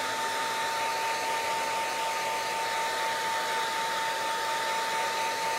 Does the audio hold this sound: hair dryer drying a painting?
yes